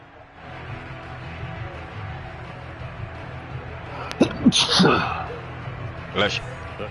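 A single sharp sneeze cuts through a quiet background with faint talk, followed by a short burst of noise and a smaller second sound a moment later.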